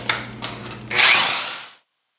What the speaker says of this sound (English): My saw blade, I think, is getting clogged up with MDF.